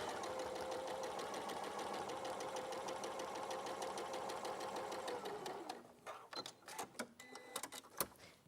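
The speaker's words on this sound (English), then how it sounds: "so we're just sewing those 2 together" Sewing machine stitching two fabric pieces together, a steady close mechanical whir with rapid needle ticking for several seconds, then slowing into uneven stops and clicks.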